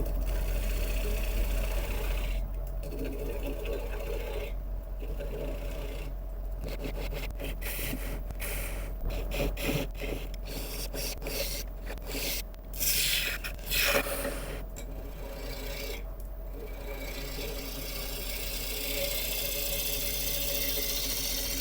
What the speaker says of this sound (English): we'll take away the tailstock now so we can carry on hollowing out